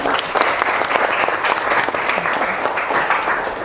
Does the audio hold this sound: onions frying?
no